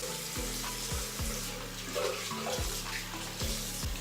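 Water runs steadily, splashing and trickling onto hair and scalp with a few low thumps, close by and with no talking.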